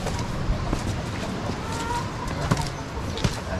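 Chickens clucking outdoors as a door opens and they come out, faint scattered clucks and short calls over a constant background hiss.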